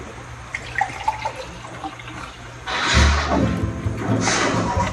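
Quiet handling noises give way to a rushing splash of water being poured, loud and close, lasting a couple of seconds.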